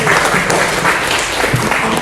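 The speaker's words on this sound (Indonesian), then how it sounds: "Oke, tepuk tangan untuk Gilbert." A room full of people clapping, dense and steady for the whole stretch, fairly loud and close.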